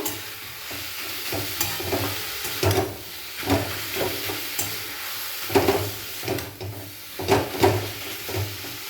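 Chicken pieces cooking in hot oil in a pan while being stirred, an ongoing sizzle and hiss broken by repeated scraping and clattering strokes of the spoon, up close.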